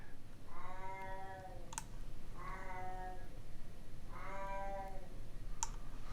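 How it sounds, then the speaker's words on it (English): Drawn-out, wavering moans from a pet cat in a distant part of a house come three times at steady intervals. Sharp computer keyboard clicks sit between them in a quiet room. "He just goes off into distant places of the house and starts moaning like that."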